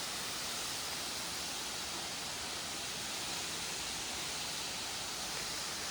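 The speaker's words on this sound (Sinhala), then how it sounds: "මාරම ලස්සන ඇල්ලක් තමයි" Diyawini waterfall in Sri Lanka pours down in a steady, dense roar of rushing water, an unbroken broadband hiss that holds constant and fairly close throughout, with no voices.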